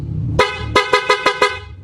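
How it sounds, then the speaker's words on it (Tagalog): A loud aftermarket horn on a Suzuki Raider FI motorcycle blasts once, then gives five quick rhythmic toots, close and piercing with no talking. "Tapos meron yung loud horn dito sa kabila."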